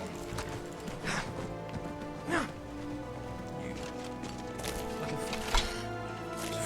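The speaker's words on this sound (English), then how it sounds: "Can I kill the horse before it runs away?" Hooves of a horse in a survival RPG clip-clop in a quick rhythm as it runs off, fairly faint over a soft, constant ambient bed, with a few louder thuds standing out.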